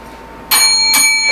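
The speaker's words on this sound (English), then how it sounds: "he will do a double ding" A bell at an open mic night for readers strikes twice as a timing signal: two bright, ringing dings roughly half a second apart, the first letting its tone hang before the second sounds, close and clear over a quiet room.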